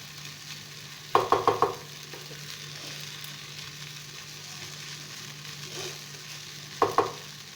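Spicy vermicelli stir-fries in a pan, a soft steady sizzle broken by two quick clusters of sharp spatula taps against the pan, one early and one near the end, with no talk.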